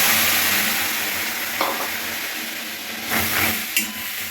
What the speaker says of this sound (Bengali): জাস্ট এটাকে ঢেলে দেবো, যেটা আমি আনারসটা গ্রেট করে নিয়েছি এটা।